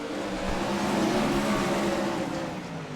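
Dirt track race cars at Limaland roar steadily through turns 3 and 4 during a heat race, a loud sustained engine drone with no talk over it.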